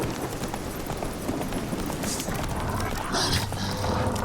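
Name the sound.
hoofbeats of Roach the horse galloping in the video game The Witcher 3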